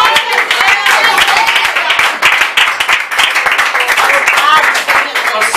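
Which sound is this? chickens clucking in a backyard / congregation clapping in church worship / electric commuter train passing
congregation clapping in church worship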